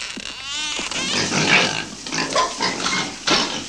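A pig grunts and squeals loudly and continuously at close range, with harsh, rising squeals over rough snorting grunts.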